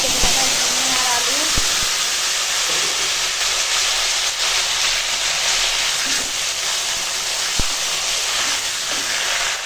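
Ginger-cumin paste, with turmeric and chili powder, going into hot oil for a rohu fish curry gives a steady, loud sizzling hiss that holds evenly throughout.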